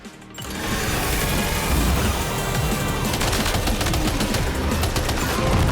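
Sustained automatic gunfire from a Death Stranding 2 firefight rattles on after a weapon swap. It is loud, dense and continuous, a near-constant barrage that starts almost at once and barely lets up.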